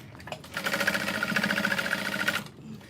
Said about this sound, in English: not sewing through any of the lining pieces, only the exterior, to attach the side pocket